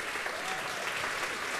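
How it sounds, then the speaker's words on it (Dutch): Audience applause at a harmony band music night in Sint-Lenaarts, a steady dense wash of clapping filling the whole moment at moderate level, with no distinct voices. "geef ze een hartelijk applaus"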